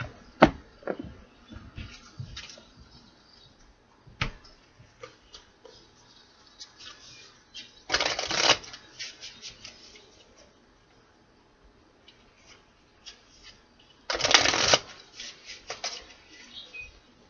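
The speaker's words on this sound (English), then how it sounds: "Two more shuffles, my guides." Tarot cards being shuffled close up, with two loud riffling bursts among scattered soft taps and flicks in a quiet room.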